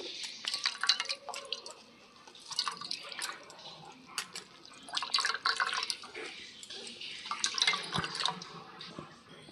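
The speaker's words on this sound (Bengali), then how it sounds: "এখন ছেঁকে নেব এর মধ্যে আমি ঢেলে নিচ্ছি ঢেলে ভালো করে ছেঁকে নেব" Blended spinach paste being strained lets liquid trickle and drip in uneven, intermittent spurts, fairly faint and close by.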